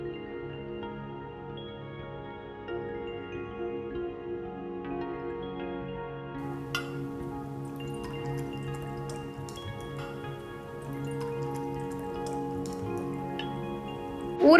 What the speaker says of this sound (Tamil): இதுக்கு ஒரு ப்ரெஷர் குக்கரில் 5 கப் தண்ணி ஊற்றி